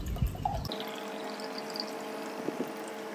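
Water from a fresh coconut pours into a glass in a short quiet stream after a brief opening clatter, with faint trickling and a couple of drips near the end.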